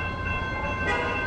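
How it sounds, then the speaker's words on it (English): Long freight train passing close by: a steady, heavy rumble with faint tonal whine, continuous throughout the brief moment. "We still can't see the end of the train."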